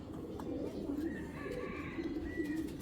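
Soft, low cooing of Giribaz pigeons repeating in gentle phrases, with faint higher chirps and background murmur in a quiet space.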